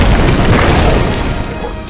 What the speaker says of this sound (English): This is why you want to keep your fire bombs.